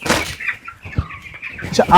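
Chickens on a poultry farm cluck and squawk in bursts close by, with a brief flutter of wings amid the flock's chatter.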